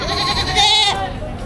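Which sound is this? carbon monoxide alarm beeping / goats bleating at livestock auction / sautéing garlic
goats bleating at livestock auction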